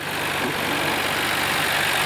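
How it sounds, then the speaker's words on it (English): A 1991 Nissan Skyline GT-R RB26 twin-turbo engine idles steadily nearby, a smooth continuous hum with an even, unbroken tone and no other sounds. "RB26 twin-turbo engine seems to be in silky smooth running condition"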